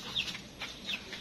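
Free-range chickens in the Philippines clucking softly at a distance, with a few short, bright calls repeating at an irregular pace over a quiet farmyard background.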